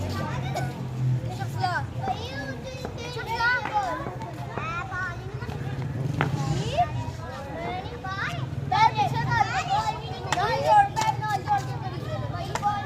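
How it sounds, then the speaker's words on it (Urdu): Small children play outdoors at Sialkot fort, their high voices and shouts scattered across a steady background hum, with adult speech running over the scene. "میں یہاں پر چھوٹے چھوٹے بچے کھیل رہے ہیں"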